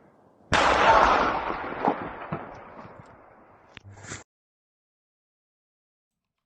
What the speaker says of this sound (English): this video is going to show an explosion over here next to these rail cars